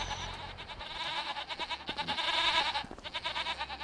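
Goats in a farm pen bleat and call over a dense, continuous layer of animal noise, loud and close throughout the short stretch, with several overlapping voices.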